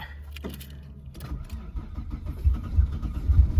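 An old farm car, a Saab 900 or Subaru Brat, cranks and then catches, its engine firing into a rough, uneven rumble that grows louder and lumpier close to the microphone.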